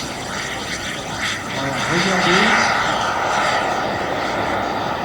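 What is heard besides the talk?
Boeing 727 jet engine during takeoff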